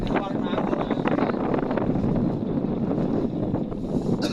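Storm wind buffets a trawler stranded on a char in the middle of the Padma river at Manikganj during heavy rain, a steady loud roar with gusting mic rumble lasting throughout.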